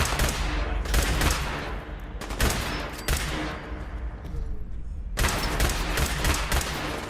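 Gunfire from a video game: loud, dense bursts of rapid shots that repeat in waves, with brief drops in between, filling the sound with no audible talk.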